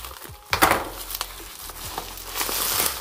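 Scissors snip open yellowed, dirty bubble wrap around a boxed iPhone 11 Pro, giving close crinkling, rustling and sharp plastic crackles in uneven bursts with no talk.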